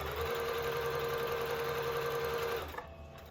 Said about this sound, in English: I'm gonna leave it on auto, and I'm just gonna show you a simple zigzag stitch.